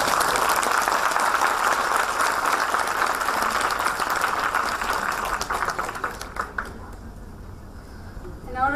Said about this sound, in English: show your appreciation with a good applause to the speaker